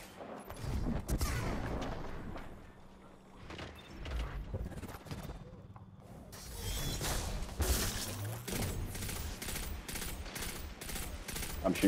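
Rapid bursts of game gunfire from a Destiny multiplayer match on the Twilight Gap map, with dense shots and impacts through most of the stretch, loudest in the second half, while a voice talks now and then over the action.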